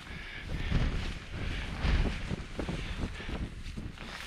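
Strong wind blows across open moorland in the Yorkshire Dales, buffeting the microphone in loud, rough gusts that rise and fall with no clear breaks.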